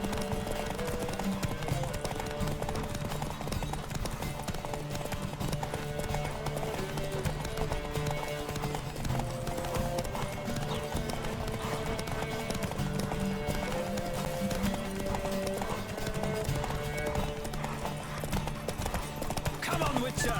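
Steady rhythmic hoofbeats of a galloping horse in The Witcher 3: Wild Hunt run throughout, set against continuous music, with a brief whinny and occasional voices mixed in.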